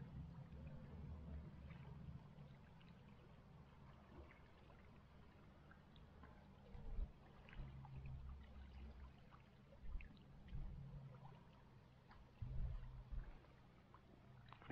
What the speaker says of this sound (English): Listen to that, just that water.